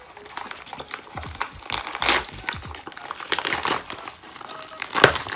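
A foil packaging bag holding wireless earbuds crinkled and torn open up close, with a run of sharp crackling rustles and crunches that come in bursts over several seconds.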